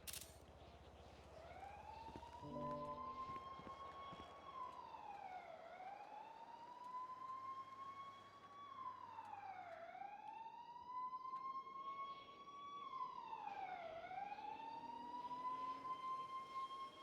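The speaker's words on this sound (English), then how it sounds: "Sounds like an ambulance." A wailing ambulance siren sweeps up and down in long repeating cycles, steady and moderately distant, sounding alone with no talk over it.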